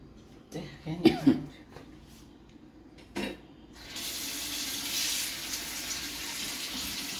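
Tap water runs steadily into a sink as a galouti kebab is held under it, a bright continuous splash starting partway through, preceded by a few short voice sounds and a cough.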